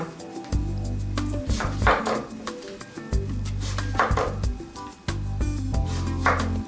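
A knife slicing potatoes into thin slices on a cutting board, with repeated crisp cuts and board knocks in an uneven rhythm, close and fairly loud, no voices.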